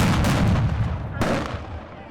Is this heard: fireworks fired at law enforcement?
yes